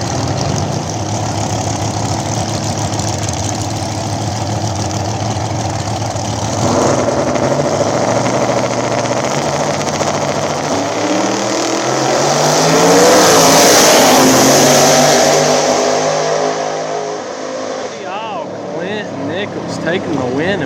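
Gasser-style Chevy Nova drag race car at a small-tire no-prep event, engine loud and close throughout, a steady idle swelling into a rising roar as it launches and then fading, with a crowd and announcer underneath.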